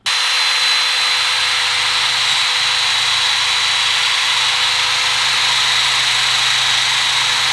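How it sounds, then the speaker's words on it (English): Power-driven wire wheel scrubbing the outer surface of a car suspension bushing mount on a Datsun 280Z during a Prothane mustache bushing upgrade, a loud, steady high-pitched whirring grind that runs unbroken throughout with no talk. "I used the wire wheel to clean out the outside area right here"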